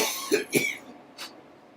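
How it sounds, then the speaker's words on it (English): A few sharp coughs close by, two quick ones followed by a softer one and a brief throat noise, with quiet in between. "I got a cough."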